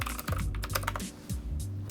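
Fast, close clacking keystrokes on a budget mechanical keyboard with MX-stem keys, in a steady run of typing with a few brief pauses.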